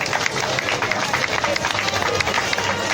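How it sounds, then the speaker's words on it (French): A church congregation at a memorial tribute cheers and applauds loudly, steady dense clapping and shouting filling the room throughout. "on acclame très fort pour notre Seigneur"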